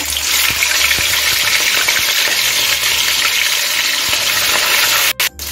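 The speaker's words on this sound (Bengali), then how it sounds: "এখন আমি মাছ ভেজে নেব।" Dense, steady sizzling of catla fish frying in hot oil, a loud continuous crackle close by with faint clinks, no talking.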